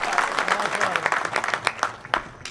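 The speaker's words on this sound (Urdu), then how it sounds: "آپ سب کی بھرپور تالیوں میں دعوت دیتا ہوں" Audience clapping at a political election gathering welcoming panel candidates and dignitaries, a dense burst of applause that thins into scattered claps over a few seconds, moderately loud and close.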